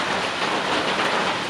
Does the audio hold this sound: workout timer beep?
no